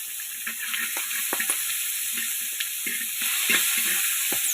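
Bay leaf, cumin and whole garam masala sizzling in a mix of white oil and ghee, a continuous bright crackle with scattered pops and stirring scrapes, close and alone.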